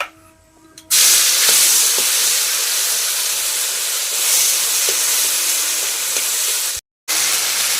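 Taro fries in oil with dried red chillies, green chillies and ginger paste, a loud sustained hiss and sizzle that starts abruptly after a brief quiet moment and runs steadily, cut by a short silent gap near the end.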